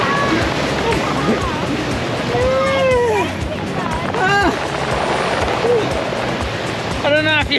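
Surf washes onto the beach at Cockle Creek, Tasmania, a constant loud wash of waves with seabird-like calls and voices mixed in throughout.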